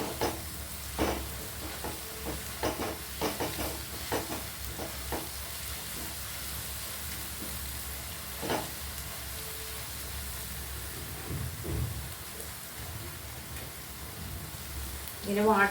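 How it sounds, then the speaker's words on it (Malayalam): Onions being sautéed and stirred in a pan for a homestyle Kerala chicken curry, giving a steady low sizzle with repeated scraping stir strokes, close up and continuous throughout, with a little background speech. "സവാള എല്ലാം ജലാംശം മുഴുവൻ പോയി കിട്ടുവോളം നമ്മളിങ്ങനെ വഴറ്റി നിൽക്കണം"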